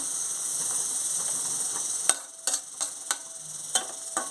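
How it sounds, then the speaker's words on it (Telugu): Onions fry in a pan with a little salt, giving a steady high sizzle, then a series of sharp spatula taps and scrapes as they are stirred. "ఆనియన్స్ బ్రౌన్ కలర్ వచ్చిందాక ఫ్రై చేసుకోవాలి"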